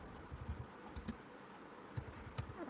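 Faint, close keyboard typing on a computer, a quick run of soft key clicks in an uneven rhythm with no talking.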